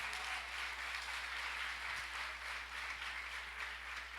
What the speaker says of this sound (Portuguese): dê um aplauso